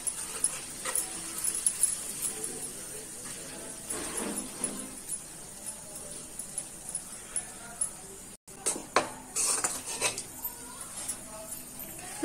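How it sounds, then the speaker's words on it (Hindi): A utensil stirs gram flour roasting in ghee in a pan, making soft scraping and repeated light metallic clinks against the pan, fairly quiet and close. "अब इसमें डाल के हम अपना बेसन अच्छे से भूनेंगे।"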